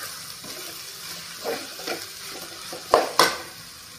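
Softened onions sizzling in a pan as chili powder is stirred in for a prawn and egg fry, with a steady close hiss and several spoon scrapes, ending in two sharp knocks against the pan.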